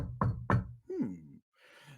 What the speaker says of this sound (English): the question is answered by a knock on the door.